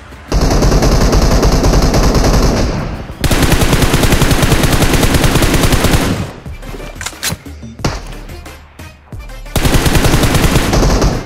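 Automatic gunfire from PUBG Mobile rattles in long, loud, continuous bursts with a sparser stretch of separate shots in the middle before another heavy burst.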